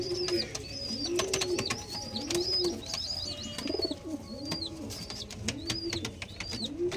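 Tournament pigeons coo in repeated soft rolling calls, several birds overlapping at close range with a steady background murmur and faint rustling.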